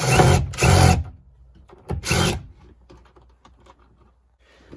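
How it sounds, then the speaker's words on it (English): A power tool fitted with an 11mm socket drives out screws from a 2017 Dodge Grand Caravan seat area, giving several short loud whirring bursts separated by quiet pauses, with small clicks and handling noises between them. "you'll take an 11mm and you'll remove all these screws"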